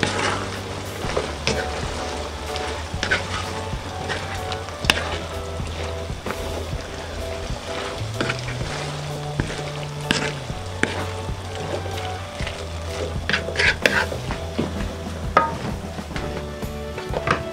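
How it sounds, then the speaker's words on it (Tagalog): Beef tripe stew cooks in a pot with steady sizzling and bubbling while a utensil stirs and knocks against the pot in irregular strokes, close by, with a faint low hum underneath. "Yan, haluin muna natin."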